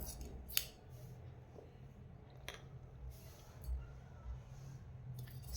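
Scissors cut blouse fabric for a katori blouse, giving a few quiet, close snips spread across a soft, steady background with no voices.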